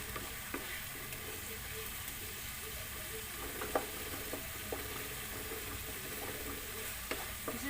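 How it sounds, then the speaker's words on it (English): Tomatoes are mashed and stirred in a sizzling pan for okra masala, a faint, steady frying hiss with soft scraping knocks from the utensil. "We have to make sure that all the tomato is mashed."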